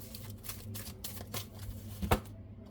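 Tarot cards riffle and flutter in quick, soft bursts during a shuffle, with a sharper snap near the end before the sound stops; close and quiet, with no voices.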